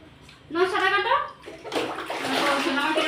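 A little girl being bathed splashes water in a tub, with a burst of splashing and sloshing, a short pause and then continuous nearby splashing, while a voice is heard.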